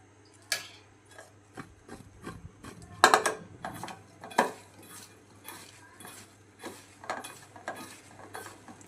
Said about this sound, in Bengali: লবণ হলুদটাকে ভালোভাবে মিশিয়ে নিচ্ছি সয়াবিনের সাথে।